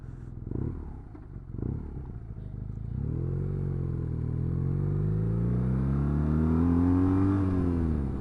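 A motorcycle ridden on muddy, slippery roads with its back wheel spinning: the engine note rises and swells in a long, loud rev after a few rough bursts, close and alone.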